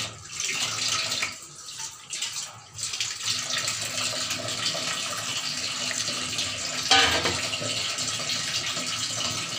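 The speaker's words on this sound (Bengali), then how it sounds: "আমার মনে হয়েছিল যে জলটা কম আছে, আমি এটাকে দিয়ে দিলাম" Water is poured into a pot of cooking rajma with a steady, close splashing gush that rises briefly in force partway through.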